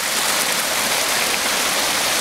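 Rainwater from a town sewer pours steadily into a creek after light rain, a constant loud hiss of rushing, splashing water with no pauses or voices.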